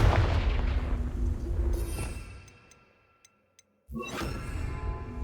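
Confringo explosion spell cast in Hogwarts Legacy, a booming blast with rumbling decay fading to near silence, followed by a sudden new impact and crackling debris.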